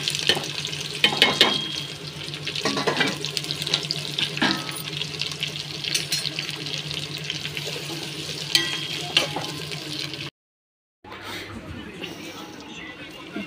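Onions and green chillies fry in a pan of oil with mustard seeds and cumin, a steady sizzle with crackles and spatula scrapes, close by, before a brief drop to near silence and a quieter tail.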